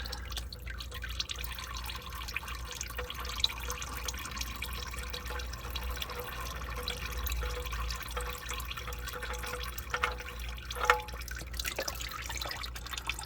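Used motor oil drains from a car into a bucket beneath it in a steady, continuous trickle with faint drips, moderately loud and close, with no voices.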